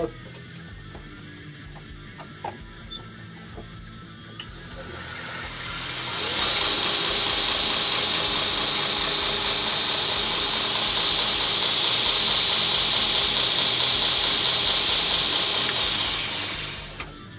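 A KMG belt grinder spins up after a few seconds of quiet clicks and runs with a loud, steady, high-pitched whir and belt hiss for about ten seconds, then cuts off, heard up close with no talk.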